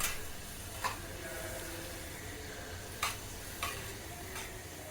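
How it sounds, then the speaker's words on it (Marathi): Cucumber masala puris fry in hot oil with a faint, steady sizzle and a few soft pops and clicks, no voices over it. "तेल कडकडीत गरम करून घेतलेलं आहे आता एक एक पुरी टाकूया आणि तळून घेऊया"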